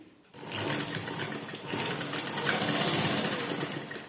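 A sewing machine runs in a fast, continuous whirring burst as it stitches a lining jacket seam, starting abruptly after a brief quiet moment and running close up without talk.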